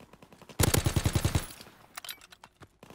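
A burst of rapid automatic gunfire in Call of Duty WW2, about a dozen evenly spaced loud shots lasting under a second, followed by a few quieter scattered shots and clicks.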